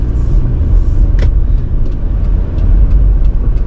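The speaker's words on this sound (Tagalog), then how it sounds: "dito lang din natin sa labas ipaparada tong sasakyan" A car being driven outside and brought to a stop for parking, heard as a loud, close, continuous low engine and tyre rumble with no talk.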